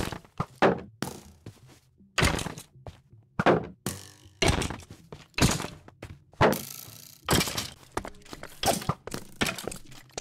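Minecraft piston machine running in a modded survival world, with repeated hard mechanical thunks and cracks at irregular intervals, some close and loud, others softer, over a quiet low background.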